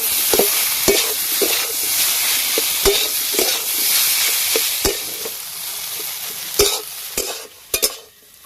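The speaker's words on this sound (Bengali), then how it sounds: "নাড়াচাড়া করে আলুর পুরটা তৈরি করে নেব" A spoon scrapes and taps repeatedly through a potato filling seasoned with salt and garam masala, sharp close knocks against the pan over a low sizzle, with a quick flurry of clatters at the end.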